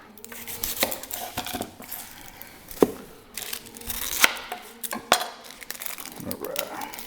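Onion being chopped on a cutting board for a breakfast burrito, a string of sharp knife thuds at an uneven pace, close up, with faint clinks of kitchenware between strokes.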